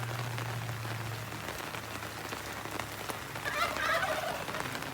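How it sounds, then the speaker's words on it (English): Steady rain patters and hisses on surfaces, constant and enveloping, with a brief louder splashing swell near the end. "Wow, okay, it is raining."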